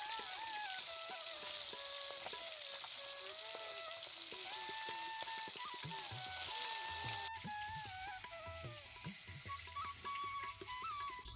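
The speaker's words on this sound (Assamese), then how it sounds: "এতিয়া মই মাছখিনি আধা ভাজি ল'ম" Fish being half-fried in a pan as the first step of an Assamese fish curry gives a steady, soft sizzle throughout, partly under background music.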